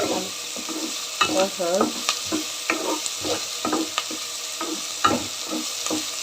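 Tomatoes frying in a pan for noodles, a steady close sizzle with repeated scraping and clinking of a spoon stirring, no talk over it.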